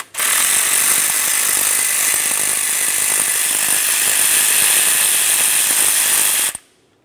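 A ratchet backs out an 8mm mounting bolt on the throttle body of a 1994-2002 Dodge Ram 2500, a rapid continuous clicking, close and loud, that stops abruptly near the end.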